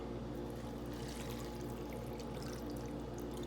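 Water poured steadily from a container into a Top Ramen microwave noodle cooker, a continuous close splashing pour lasting a few seconds with no talking.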